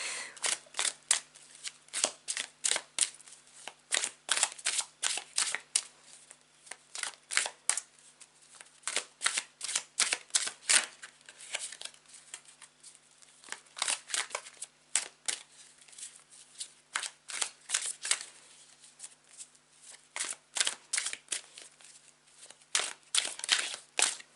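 Tarot cards being shuffled in repeated bursts of quick riffling and flicking, close and clear over about twenty-four seconds, with short pauses between rounds and no talking.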